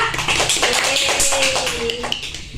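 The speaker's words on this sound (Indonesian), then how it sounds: "Tepuk tangan dong untuk Mbak Vinda." A small classroom group claps hands in a quick, fairly soft burst of taps, with a voice sounding through the claps.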